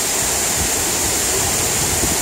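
Steady, loud, broadband roar of the waterfall at Cachoeira do Serrado in Porteirinha, Minas Gerais, close and unbroken with a hissing spray over a deep rumbling wash.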